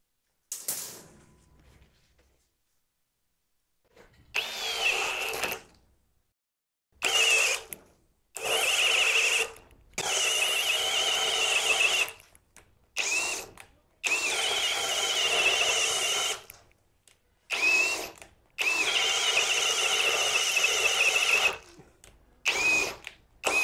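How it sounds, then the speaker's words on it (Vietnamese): A Dongcheng DCJZ06-13 20V cordless drill whines in repeated bursts of a few seconds each, stopping and starting as it bores into dry wood with a 28 mm bit, loud and close with short silent gaps between. "Khoan tới mũi phi 28 thì máy bắt đầu thấy hơi yếu"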